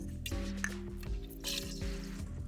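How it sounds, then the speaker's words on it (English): Steeped elderflowers drained and squeezed out by hand, soaked overnight in water, giving soft close squishing and dripping of liquid over a steady low background hum. "Drain it well, because the water is what you actually want. Squeeze it out a bit."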